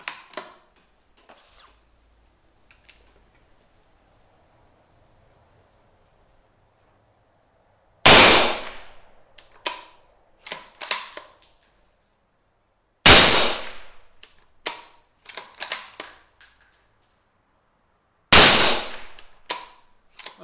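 Three loud, sharp rifle shots from a .223 Rem rifle firing 53-grain soft point bullets through a muzzle-mounted Schutz and Larsen moderator, each followed by clattering bolt and mechanism noises, with quiet stretches in between.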